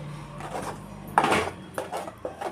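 Tomato pickle being stirred in a pan, a spoon scraping and knocking against the metal in several short, close bursts over a low steady background hum, with no voices.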